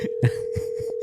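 A telephone call is placed through a Bluetooth device, producing a steady, unbroken tone with faint soft bursts around it, heard close and alone.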